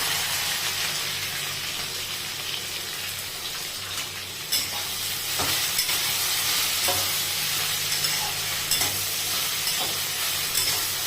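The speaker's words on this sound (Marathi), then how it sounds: "हिरव्या मिरच्या परतून घेऊ" Green chilies and okra sautéed in a pan, a constant close sizzle with intermittent stirring scrapes and clacks, and one sharper knock midway, no one speaking.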